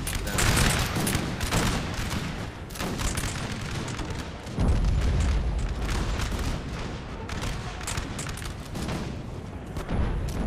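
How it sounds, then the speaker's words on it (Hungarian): Dense, continuous cannon and musket volleys thunder through a Napoleonic Total War III battle, loud and layered, with a heavy low boom arriving midway. "Az ágyuk is oda lőnek, ahova kell, nem mellé."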